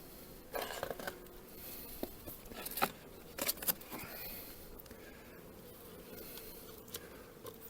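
Honeybees buzzing at an open hive while brood frames are moved for queen cell introduction, a low steady hum with intermittent clinks and knocks of frames and equipment close by.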